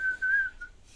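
A single person gives a short, thin whistle imitating a whistle code, one clear sustained note lasting about half a second, heard close and alone.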